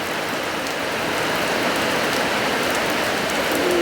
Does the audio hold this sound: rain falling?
yes